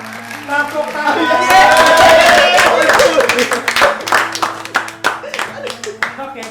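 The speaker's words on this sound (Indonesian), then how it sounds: "Tepuk tangan." A studio audience at a comedy Islamic quiz show claps hands, loud rhythmic clapping with crowd voices that swells and then thins into scattered claps, with some talk and music underneath.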